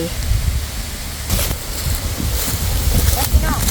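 Gusty wind blows outdoors in a forest ahead of rain, buffeting the microphone with a continuous rough rumble and a few stronger gusts.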